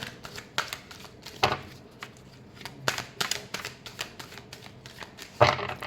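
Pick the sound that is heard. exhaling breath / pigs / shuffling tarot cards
shuffling tarot cards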